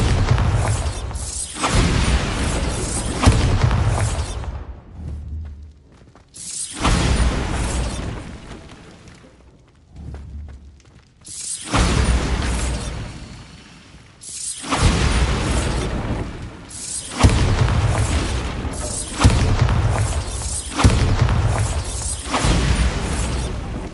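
Bombarda spell blasts in Hogwarts Legacy, several loud booming bursts with crackling debris, each swelling and fading, separated by short quieter gaps.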